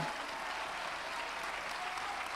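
An audience at a church worship service claps steadily, a dense, even wash of many hands at moderate distance with no break.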